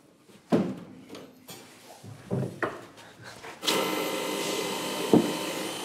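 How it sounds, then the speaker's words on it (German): Several knocks and scrapes of handling metal, then a drill whirs steadily against a hardened vanadium steel wrench, grinding continuously for the last couple of seconds. "Versuche ich mal so einen Schraubenschlüssel hier zu bohren"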